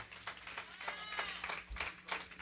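A church congregation at a Christmas concert claps in a steady rhythmic beat, each clap landing clearly in time, with faint singing or tonal sound in the background.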